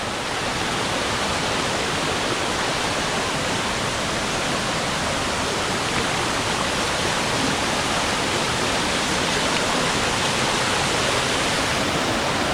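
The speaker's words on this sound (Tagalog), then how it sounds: "Napakasarap pakinggan ng agos ng falls dito mga boss." Waterfall pouring with a constant, dense roar of rushing water, loud and close, unbroken and steady throughout with no voices.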